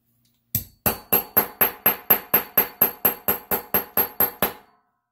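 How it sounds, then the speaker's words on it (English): Fifteen sharp hammer blows strike a hole punch through thick nitrile gasket material for a diesel generator fuel gasket, evenly spaced in a steady rhythm, loud and close with no talking. "So you just go through again and hammer it."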